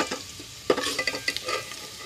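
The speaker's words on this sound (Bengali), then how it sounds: "পেঁয়াজের মধ্যে হলুদ, লবণ, মরিচ গুঁড়া সব দিয়ে দিয়েছি, জিরা। এখন এটা একটু নাড়াচাড়া করতেছি।" Onions being stirred in a frying pan with turmeric, salt, chili powder and cumin, with a soft sizzle and a run of scraping spoon strokes that grows busier about halfway through; no one speaks.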